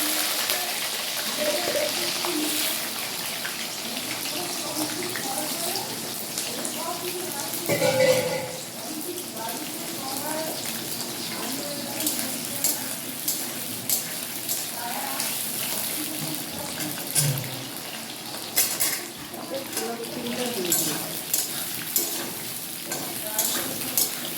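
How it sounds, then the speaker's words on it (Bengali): Potatoes fry in oil with black cumin, a continuous close sizzle mixed with stirring scrapes and clatters, while a person talks over it in places. "প্রথমে দিলাম তারপরে দিলাম একটু কালো জিরে, আলুগুলো দিয়ে দিলাম।"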